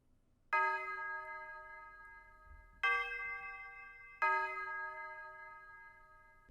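Three clear synth bell notes ring out one after another, each with a sharp attack and a long shimmering decay, alone and fairly close.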